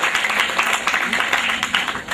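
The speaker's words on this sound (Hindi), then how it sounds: "जोरदार तालियां उनके लिए खासकर" Audience applause at a Hindi-language stage event, a dense steady clatter of many hands lasting a couple of seconds, fairly close and loud.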